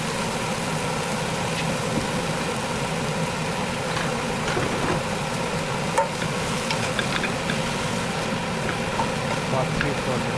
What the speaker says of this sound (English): let's make sure our vegetables are mixed with masala very nicely